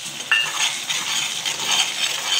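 Cornflour slurry being stirred into a sauce for chicken lollipop, a soft steady scraping and swishing with a brief clink near the start, close and moderately loud with no talking.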